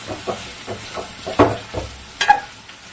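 Mutton pieces frying in oil for gongura curry, a soft continuous sizzle with a few clinks and scrapes of a utensil stirring in the pan, close by.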